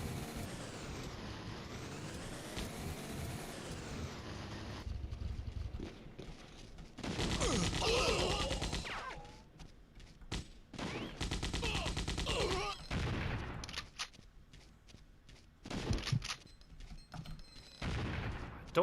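Enemy gunfire in the video game Codename Eagle, loud bursts of shooting and heavy battle noise in several blocks over a steady background drone, with scattered sharper shots later.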